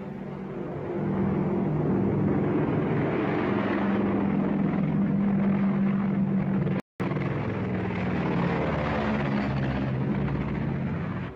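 Old propeller airplane in flight, shown in a colorized Laurel and Hardy film, gives a steady droning engine hum with a strong low tone that holds throughout, broken by one brief cut of silence midway.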